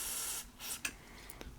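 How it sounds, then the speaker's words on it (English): Short bursts of contact cleaner sprayed into a clogged, wonky power switch on a Commodore 64 breadbin, a longer hiss followed by a few brief squirts, close and fairly quiet. "I'm going to try to spray some contact cleaner in it."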